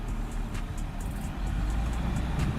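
An off-road SUV engine revs steadily while the vehicle climbs a diagonal-articulation obstacle, a loud continuous low rumble with mechanical clatter throughout and no speech.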